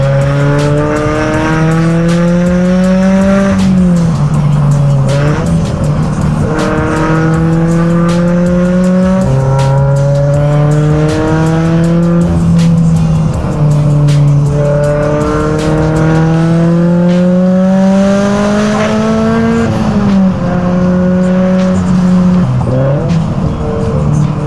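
Turbocharged Subaru BRZ accelerating hard, engine droning loudly and climbing through several gears with shifts between pulls, tire squeal mixed in, sustained and close throughout.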